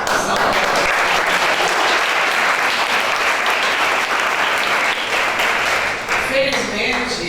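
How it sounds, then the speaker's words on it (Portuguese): A ceremony crowd at a regional veterinary council event honoring inspiring women breaks into sustained, loud applause, many hands clapping densely throughout, with some voices emerging near the end. "aplausos às mulheres."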